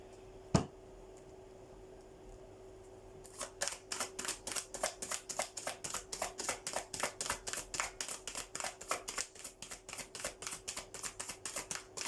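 Tarot cards being shuffled in a quick, steady run of crisp riffling clicks after a single sharp tap and a short quiet pause, close and clear with no talking.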